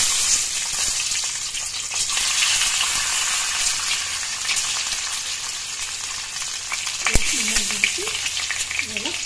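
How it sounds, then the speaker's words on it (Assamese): A boiled egg fries in oil in a kadai with a loud, constant crackling sizzle and some stirring, and a brief voice sounds near the end. "এতিয়া মই কণীটা বইল অলপ ভাজি লওঁ"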